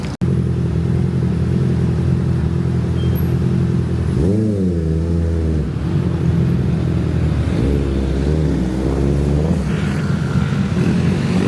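A vehicle ride sets off on a Bangkok street. A loud, close engine drones steadily and rises in pitch twice as it pulls away and accelerates, with no talking.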